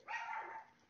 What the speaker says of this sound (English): when doggy started barking